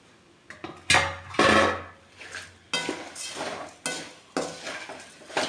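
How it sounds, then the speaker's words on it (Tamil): Puffed poha tipped into a pan with masala and stirred, giving dry rustling pours and scraping spoon-against-metal strokes in several bursts, fairly close and moderately loud, with no voices. "அப்படியே வந்து எல்லாத்தையும் கிண்டுறோங்க"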